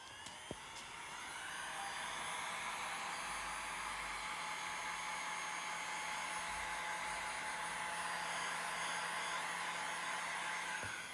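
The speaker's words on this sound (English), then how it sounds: "I will fly over with the heat gun" A heat gun blows over freshly poured resin in trays. It makes a continuous loud rushing whoosh, like a hair dryer, that swells up within the first two seconds and holds steady throughout, with a couple of faint clicks at the start.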